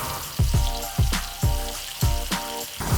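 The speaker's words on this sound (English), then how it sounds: "let this simmer, stirring it until that sugar dissolves" Tamarind and palm sugar simmering in a pan, giving a steady close sizzle and bubbling with a few louder pops and clinks spaced about half a second apart.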